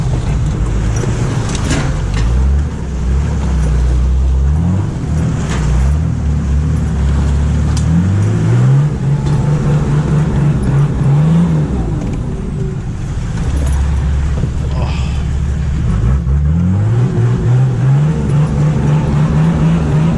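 A Nissan GQ Patrol's TD42 diesel drones steadily on a night 4WD run, rising and falling through gear changes, heard from inside the cabin with no speech.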